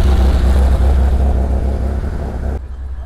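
A classic Porsche Targa drives past at a gathering of vintage cars in Andrésy, its low engine rumble loud and close for about two and a half seconds before cutting off abruptly.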